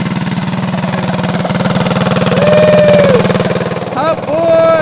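A standard-bore mini bike engine runs steadily with a buzzing, pulsing note close by, rising slightly in pitch midway, with brief voices and whoops over it near the end.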